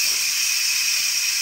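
Steam hissing from an Instant Pot pressure vent, a steady, loud, bright rush with no other sound.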